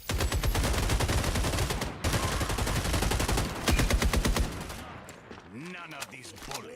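Sustained rapid gunfire from the shooter game FragPunk, loud automatic bursts for about five seconds with a brief break, then tapering into scattered game effects as a voice speaks.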